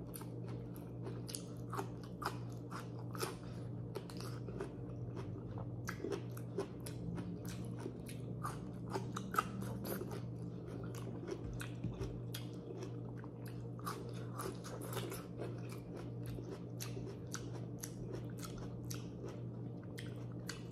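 Close, steady chewing of butter-cooked asparagus and rib eye steak, with soft biting, squishing and crunching repeating throughout over a low background hum and no talk.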